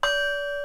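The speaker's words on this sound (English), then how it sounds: "I'm going to ring the bell" A bell rings once with a clear bright strike, then its pure tone sustains and slowly fades, close and alone.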